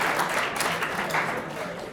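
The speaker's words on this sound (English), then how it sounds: "Oh, there's applause." Applause in a university lecture class, a dense patter of many hands clapping together, steady and fairly loud for about two seconds.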